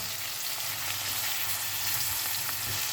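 Onions and sausages sweating in a pan, a steady close hiss of frying with faint crackles throughout and no speech.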